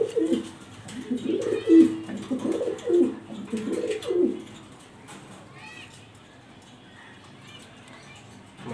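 Pigeons in a loft of U-shaped birds coo in low, repeated bursts through the first half, then the calls fade to a faint background murmur.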